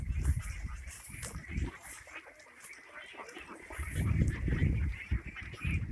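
A flock of ducks on a duck farm quacks and honks in bursts, a noisy cluster at the start and another swelling toward the end, with a quieter lull between.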